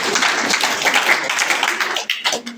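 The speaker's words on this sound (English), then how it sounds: "Let's clap for her." A school audience claps for a student, a dense patter of many hands close and fairly loud, carrying on steadily before thinning out near the end.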